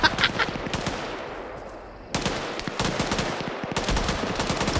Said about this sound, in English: With the gunfire in the forest for the Chechnyan war here.